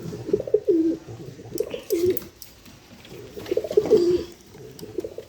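Domestic pigeons coo near a nest with eggs, with several soft, rolling calls repeated in a loose rhythm at close range and no talking.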